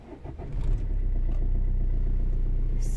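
A car engine idling low and steady as the drive begins, a brief rise at the start, then a constant close rumble with faint mechanical clicks, no voices.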